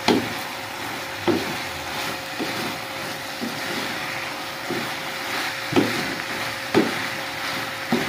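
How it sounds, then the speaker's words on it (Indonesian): Coconut filling for dadar gulung being stirred in a pan until its liquid cooks off, with repeated scraping strokes and soft sizzling over a steady background hum, no voices. "Nah ini kita aduk-aduk hingga asat airnya biar mengering sedikit"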